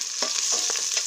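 Onions sautéing in annatto oil in a hot casserole pot give a steady, close sizzle, broken by a few brief scraping stirs.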